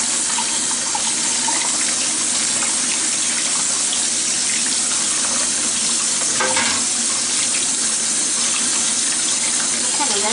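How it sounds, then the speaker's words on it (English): Running tap water splashing steadily over hands while rinsing off sticky bread dough at a kitchen sink, a continuous close wash of water with no talking. "kind of rinse my hands off a bit"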